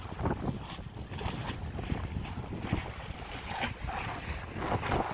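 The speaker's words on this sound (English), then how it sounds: "breeze is very nice right now." Wind blowing across a sailboat out on the bay in October, a steady rushing roar with microphone buffeting and the wash of water against the hull, no voices.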